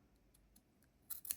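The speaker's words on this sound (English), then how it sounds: "I am going to carefully cut up the center of that knit stitch column" Scissors cut up the center of a knit stitch column on a fringed shawl, heard as a few faint snips over quiet room tone and then two louder, sharper close cuts near the end.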